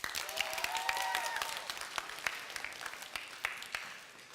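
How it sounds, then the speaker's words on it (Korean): A youth congregation at a church service claps in agreement, heard as a sustained patter of many hands that gradually thins out, with a faint tonal sound near the start. "좋다고 생각하는 친구 박수."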